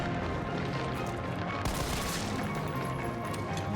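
Dense, rapid gunfire from Resident Evil 3 (2020) rattles continuously and loud, a sustained volley with no pause and a brighter burst partway through.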